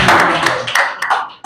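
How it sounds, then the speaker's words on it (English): An audience at a panel dialogue breaks into clapping: loud, dense and close, holding steady before tapering off at the end. "Give them applause."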